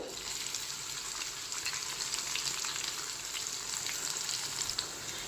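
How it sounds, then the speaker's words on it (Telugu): Thinly sliced onions, three finely chopped green chilies and cumin fry in oil on the way to golden brown for an Andhra prawn fry. A soft, even sizzle runs continuously close by, with faint stirring and no speech. "ఈ ఉల్లిపాయలు బాగా గోల్డెన్ బ్రౌన్ కలర్ వచ్చేంత వరకు ఎంచుకుందాము"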